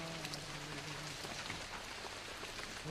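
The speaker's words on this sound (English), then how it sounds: "it was raining." Steady rain falls at Harinath Majumdar's Kangal Kutir in Kumarkhali, a dense, even patter close by with no pauses.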